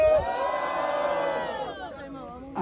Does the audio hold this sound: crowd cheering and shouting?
yes